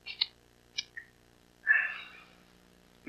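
A kitten meows in a few short, faint high calls, with a longer mewing cry near the middle, in a quiet indoor room.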